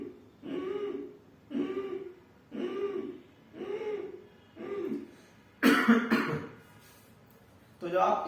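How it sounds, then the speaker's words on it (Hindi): Ujjayi pranayama breathing with sound drawn from the throat, six slow rhythmic rasping breaths at close range, followed by a harsher cough-like burst. "उज्जाई में हम क्या करते हैं, सांस को बढ़ते हुए गले से आवाज करते हैं।"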